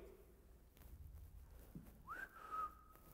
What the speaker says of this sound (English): if you were in the house and you heard somebody whistle like that, then you would whistle back to them